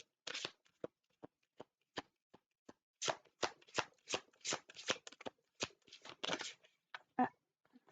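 Tarot cards being shuffled by hand, a run of crisp riffling and flicking bursts that start sparse and grow denser and steadier, close and fairly quiet with no talk.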